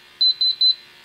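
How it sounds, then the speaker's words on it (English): Gas detector alarm during a bump test at a test station, giving three evenly spaced, loud, high-pitched electronic beeps in quick succession over a faint steady background hum. "Instrument's an alarm."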